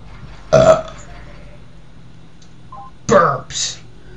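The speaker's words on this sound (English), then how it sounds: "Burps." Two loud, separate human burps, one near the start and a longer one near the end, against a quiet background with faint game tones between them.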